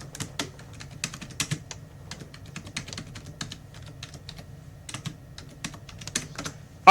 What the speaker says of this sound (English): Now I am going to, I'll type in Google the other candidates.